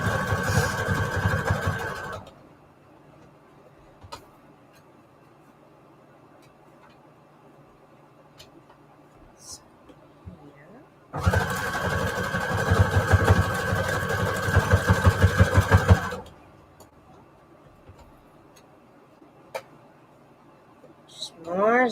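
Sewing machine zigzag stitching fabric scraps onto junk journal tags, running in two loud bursts of a few seconds each with quiet pauses between, close by.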